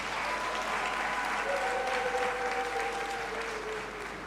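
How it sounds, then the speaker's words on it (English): Graduating students applaud at a congregation ceremony in a great hall, a dense, even wash of clapping from a large crowd that holds steady throughout and eases off slightly at the end. "A round of applause for yourselves."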